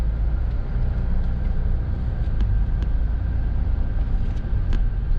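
A 2018 Kia All New Carnival Hi-Limousine with about 30,000 km on it is on a test drive, giving a steady, loud interior road rumble and engine drone with a few faint clicks and no talking.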